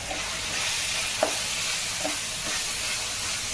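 Crab curry ingredients sautéing in a pan, a steady soft sizzle with faint scraping stirs and a couple of light clinks, close and alone without talk.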